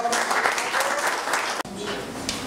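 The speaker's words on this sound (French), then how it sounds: "On l'applaudit très fort." At a DELF diploma ceremony, the audience gives sustained applause, a full, dense crowd clapping that stays loud throughout. There is a brief cut partway through, then the clapping continues.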